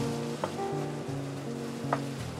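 A mirepoix of diced carrot, celery and onion sizzles steadily in a hot pan, a constant crackling hiss with two brief louder spits, close and without voices.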